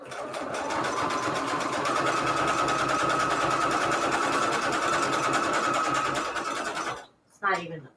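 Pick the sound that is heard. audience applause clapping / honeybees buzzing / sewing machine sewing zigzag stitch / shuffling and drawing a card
sewing machine sewing zigzag stitch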